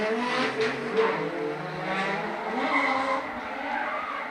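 Drift cars at the D1NZ Pro-Sport Top 16 in Tauranga launching off the start line, engines roaring loudly with squealing tires in a continuous dense wash of sound.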